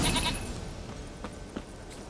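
A goat bleats in The Witcher 3: Wild Hunt, with a few short, bright calls near the start over a steady game ambience, followed by a couple of fainter brief cries.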